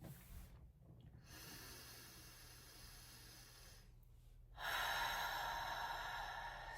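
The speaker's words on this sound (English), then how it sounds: "feel free to follow along with me for the deep breathing" Slow deep breathing during a guided meditation, soft airy inhales and exhales heard close and quiet, with one longer, louder breath toward the end.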